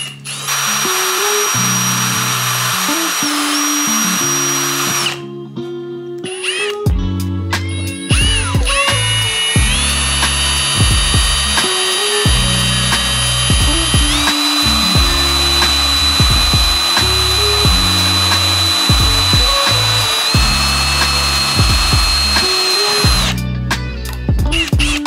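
A power drill bores holes through truck weather stripping during a Toyota Tacoma roof rack install, whining in repeated loud bursts that rise and fall in pitch as the bit spins up and bites, with short pauses between runs.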